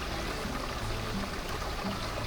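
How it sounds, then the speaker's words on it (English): Water flows steadily along the Dinagsaan Peak trail in Banaybanay, a continuous broadband rush with no pauses, close and fairly loud, and no voices. "We took a short rest here, enjoying the peaceful sound of the water"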